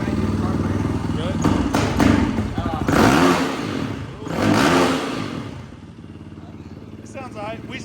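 A fuel-injected Yamaha WR450F dirt bike engine revs in a few rising bursts over its running idle, close by, with people talking around it.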